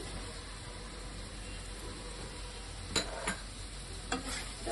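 Pieces of pointed gourd and potato go into masala in a pan, a soft steady sizzle broken by a few short scraping stir sounds near the end, with no talk.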